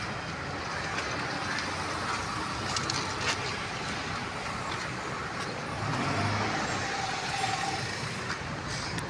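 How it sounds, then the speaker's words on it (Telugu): Dubai road traffic rolls past as a steady broadband roar of passing cars, with engine hum and tyre noise rising and falling and no clear voices. "ఇసుక ట్రాఫికే, దుబాయ్ ట్రాఫిక్."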